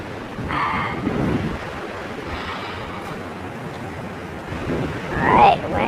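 Strong gusting wind outdoors, roughly 25 mph or more, roars steadily across the microphone with broad rushing noise and a stronger gust near the end.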